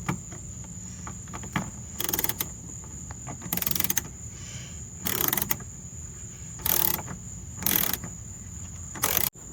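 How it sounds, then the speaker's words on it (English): Ratchet wrench tightening a tail light bolt on a Honda Element, heard as six short bursts of rapid metallic clicking spaced a second or so apart, close and crisp over a quiet background. "now you can use a ratchet"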